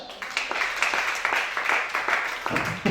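A church congregation claps together in steady, fairly fast rhythm for the whole moment. The clapping is mid-distance and even, with no voices standing out above it.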